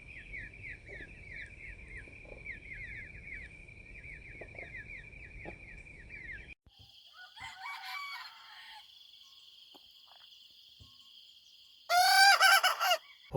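Hybrid jungle fowl on a farm fill the clip with bird calls. A long, rapid chattering call runs first, then a held crowing note, and near the end comes a sudden, loud, harsh crow.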